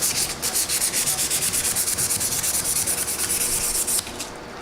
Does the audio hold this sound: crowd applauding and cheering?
no